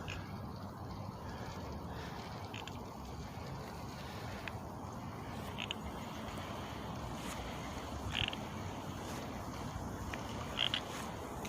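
A frog croaking near the Sammamish River trail, a few short croaks standing out over steady wind and outdoor rumble, fairly faint and not close.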